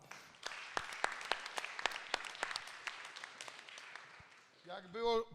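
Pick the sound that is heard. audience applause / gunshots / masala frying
audience applause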